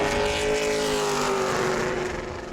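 A Pro Late Model race car completes a qualifying lap at New Smyrna, its engine a loud, steady roar that holds close and strong before easing slightly as it moves off.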